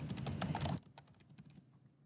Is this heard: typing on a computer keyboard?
yes